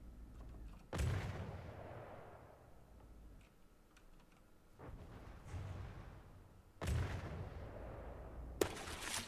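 A fancy missile turret firing in the naval combat game From The Depths: several separate heavy booming launches spaced a few seconds apart, each with a sharp onset and a rumbling decay, plus a sharper crack near the end.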